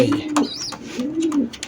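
Racing pigeons coo in two soft, rolling low calls close by, with a brief high chirp between them and a voice speaking briefly over the start.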